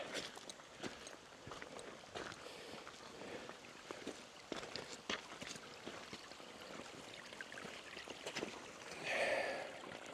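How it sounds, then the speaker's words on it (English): Gentle trickling of a small stream near Grasmere runs steadily beneath scattered footsteps and light rustling nearby. "Love the sound of running water."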